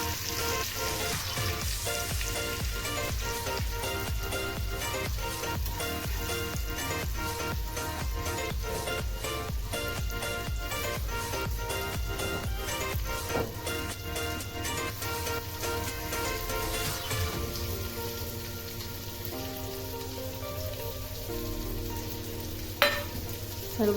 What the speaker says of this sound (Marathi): सर्व कारली मी तेलामध्ये घातलेली आहेत. आता हे छान असे आपण परतून घ्यायचे तेलामध्ये.